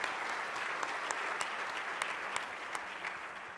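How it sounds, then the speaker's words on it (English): Sustained applause from a conference audience at a sustainable development event in Africa, a dense steady wash of many hands with sharper individual claps popping out now and then. "A round of applause, please."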